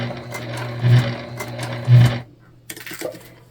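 A sewing machine stitches a bag in two quick, rhythmic runs with a steady motor hum beneath, followed by a few brief clicks as it stops.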